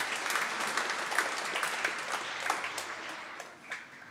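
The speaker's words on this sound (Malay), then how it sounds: "Tepuk tangan untuk kita semua." A church congregation applauds steadily, a dense wash of many hands clapping at moderate distance, fading slightly toward the end.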